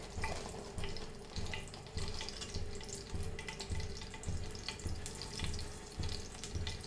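Cumin seeds sizzle in hot oil for sabudana khichdi, a steady, close crackling hiss with soft rhythmic low thumps running through it and no voices.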